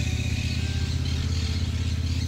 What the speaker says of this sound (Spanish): hay gente acá que pasa en moto